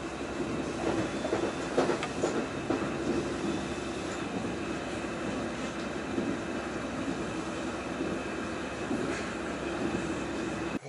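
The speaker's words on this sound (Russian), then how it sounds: "А вон, собственно, даже этот самый поезд виден уже. Штадлер." A modern Stadler passenger train rumbles steadily with rhythmic wheel clatter, heard close and continuous for several seconds with no talking.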